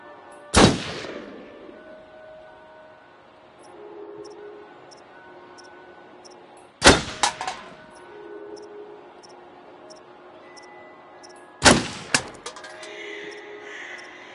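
Three loud, sharp gunshots ring out at a shooting range in the video game Until Dawn, several seconds apart, each followed by a brief echoing tail over a quiet background with faint ticking.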